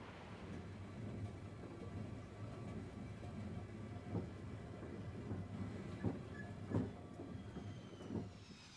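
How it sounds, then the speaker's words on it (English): A high-speed train runs through the German countryside with a steady, distant rumble, and a few soft thumps and clicks rise briefly above the continuous rolling noise. "High-speed trains slip through the countryside."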